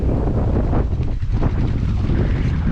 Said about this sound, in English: pretty gosh darn windy.